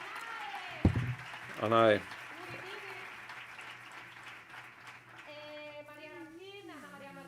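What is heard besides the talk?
audience round of applause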